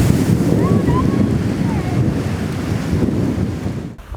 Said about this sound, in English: It's all because of those huge waves created by that strong wind.